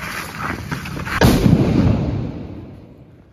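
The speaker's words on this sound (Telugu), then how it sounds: "ఫస్ట్ అయితే పెద్ద బాంబుతోనే ట్రై చేద్దాం." A big firecracker bomb, set beside petrol packs, goes off with a single loud, close blast partway through, then a long rumbling decay that fades away to near silence.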